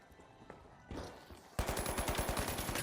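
Rapid gunfire in a shooting video game, starting with scattered shots and building into a loud, sustained burst of automatic fire near the listener.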